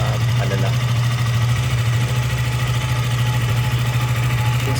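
A KTM motorcycle engine idles while warming up, a loud steady low drone with a fast even pulsing beat, close by and unbroken, while someone talks over it.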